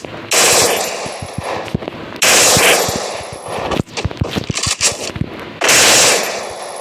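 Bursts of automatic MP40 submachine gun fire from the Free Fire video game rattle out in three long sustained volleys with scattered single shots between them, loud and close, with no talking over it.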